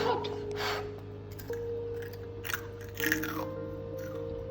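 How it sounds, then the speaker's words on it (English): Close, crisp crunching of someone biting and chewing fermented pearl millet papads, several sharp cracks over a steady low background hum. "Look how crispy they are and listen to that crunch as Arya munches them."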